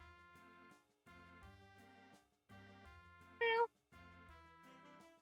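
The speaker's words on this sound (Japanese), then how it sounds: "猫の声でかい。 猫の声でかい。" A loud cartoon cat meows in the hidden-object game Travellin Cats around the World, New York stage, with one sharp cry standing out over a steady tonal game backdrop.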